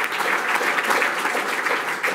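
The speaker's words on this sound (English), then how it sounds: "we should call for a round of applause for everyone that has been involved in the 1200 Building program." An audience claps steadily at an urban sustainability event, a dense, even patter of many hands held at a constant level for a couple of seconds.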